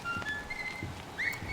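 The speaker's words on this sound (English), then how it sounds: "this whistle is the whistle that Joey does at the end of the game when you see him" Joey Drew's whistle from the video game Bendy and the Ink Machine, a few thin whistled tones that include a rising, wavering note near the end, set over a low ambient hum.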